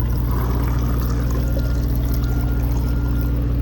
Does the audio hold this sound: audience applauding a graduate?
no